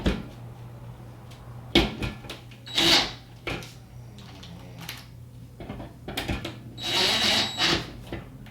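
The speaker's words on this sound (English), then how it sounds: "So we'll drill some pilot holes for these" A power drill bores pilot holes for a ceiling light fixture bracket in a bathroom, giving two or three short whirring bursts separated by quiet pauses, fairly close but not loud.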